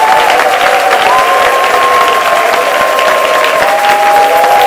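Loud, sustained applause and acclamation from a prayer congregation, continuous dense clapping with crowd voices and a steady musical tone underneath.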